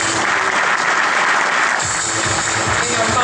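A crowd at an awards ceremony applauds loudly and continuously as the winning upholstery brand, Belart, is called up for its trophy in the Top Model 2011 upholstery category.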